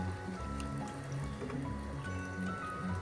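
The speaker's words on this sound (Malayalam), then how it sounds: "കറിയെല്ലാം നല്ലതുപോലെ തിളക്കട്ടെ" A ribbon fish chilli curry simmers in a pot, giving a soft, continuous wet bubbling and popping at low volume with no talk.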